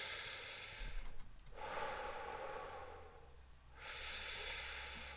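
A steady breathy hiss of air pushed out through the teeth during slow belly breathing, two long exhalations separated by a quiet inhale gap, close and fairly loud with no talking.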